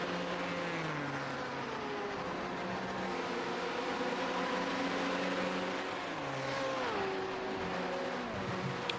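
Race car engines roar around the Bathurst circuit in iRacing, several cars heard at once with engine notes rising and falling steadily as they pull through corners, loud and continuous with no talk.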